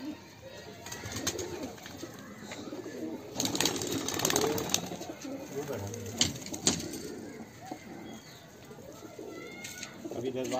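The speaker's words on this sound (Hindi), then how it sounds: "ये हमारे मरगूब भाई की कबूतर वादी है साहब" Pigeons of the mukhi and green breeds coo repeatedly nearby in a pigeon loft, mixed with wing flutters and rustling, while people talk over them.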